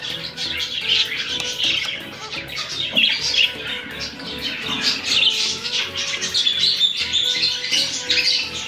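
African lovebirds squawking and chirping continuously, a dense chatter of shrill calls from several birds, close and moderately loud with no voices.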